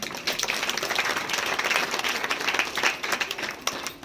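An audience at a Mahashivratri spiritual talk applauds, producing a dense, even burst of clapping that continues for several seconds with no other sound.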